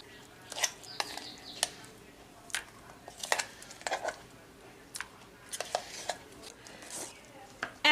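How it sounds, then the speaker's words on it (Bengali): Lentil paste for pakoras being scraped and transferred into a bowl, with scattered short clinks, scrapes and soft wet dabs at irregular intervals, close and fairly quiet. "তো এখন আমি এটাকে একটা বাটির মধ্যে নিয়ে নিচ্ছি।"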